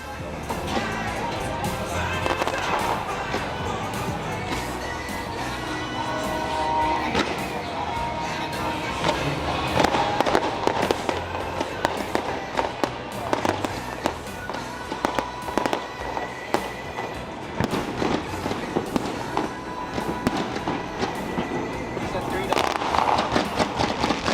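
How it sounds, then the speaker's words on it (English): A night fireworks show at the Anime Matsuri festival: continuous bangs and crackling bursts, some close and sharp, others rumbling farther off, with a busy outdoor crowd in the background. "Anime Matsuri apparently put on a fireworks show at the nighttime festival this year."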